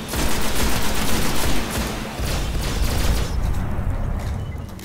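Rapid series of crackling blasts from grenades in the game Destiny, dense overlapping bursts that ease off briefly before resuming, loud and up close.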